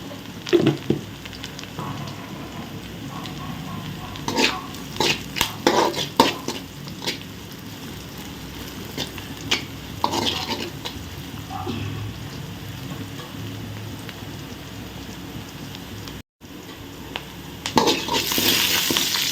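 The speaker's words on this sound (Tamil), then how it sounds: "பார்த்திங்களா வெங்காயம் நல்லா வதங்கிடுச்சு" Onions sautéing in a pan with green chilies and curry leaves for egg masala rice, a low, steady sizzle broken by repeated stirring scrapes and clatters of a spoon against the pan, with no talking.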